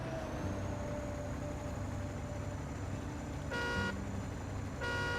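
A truck horn in the SnowRunner video game blares twice in short sustained blasts near the end, over a steady low engine rumble and faint game ambience.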